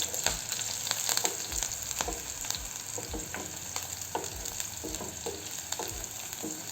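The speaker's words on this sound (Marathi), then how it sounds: "मिरची घालायची चिरलेली. असं छान फिरवून घ्यायचं." Chopped green chillies fry in a pan over low gas for sabudana khichdi, giving a steady close sizzle broken by scraping, clattering stirs as the spoon turns them.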